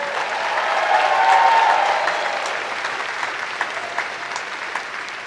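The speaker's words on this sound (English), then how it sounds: "One more round of applause for our director, Mr. Nestor" A stadium crowd applauds the University of Cincinnati Bearcat Marching Band's director, Mr. Nestor, in steady, full applause with a few cheers, gradually easing off.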